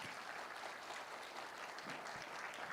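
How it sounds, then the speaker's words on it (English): Large audience applauding at a solar energy festival, greeting a government minister: a steady, even wash of many hands clapping, heard faint and distant throughout with no pauses. "Can we have a huge round of applause for him, please?"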